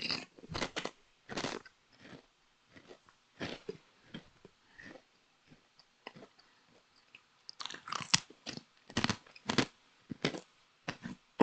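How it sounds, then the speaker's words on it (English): Close crunching bites and chewing of food come in irregular bursts, some rapid clusters and some isolated crunches, with near silence between them and no talking. "apologies if you hear some crunching because I'm eating right now."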